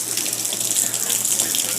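Natural spring water pouring steadily into a small trough at Seven Springs Lodge in Alabama, a loud, continuous close splashing gush without a break.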